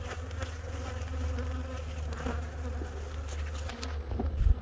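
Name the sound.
Italian and Nigerian cross honey bees buzzing at hive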